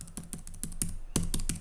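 Keys are struck one at a time in a quick, fairly even rhythm on a computer keyboard while editing text in Vim, each press a sharp, close, crisp click, with a short pause partway through and no talking.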